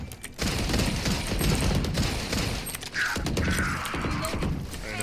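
Rapid bursts of gunfire ring out in a Valorant match, loud and close, with clustered sharp shots and brief gaps between volleys.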